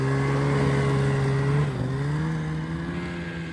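A snowmobile engine on a mountain ride revs with a loud, steady high-pitched whine that dips briefly midway, then climbs again and fades slightly toward the end.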